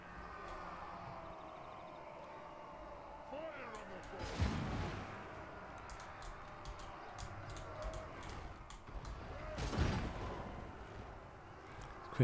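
Artillery fire in Total War: Warhammer II, with two deep booming shots several seconds apart over a low, muddy battlefield backdrop, fairly distant and moderately loud.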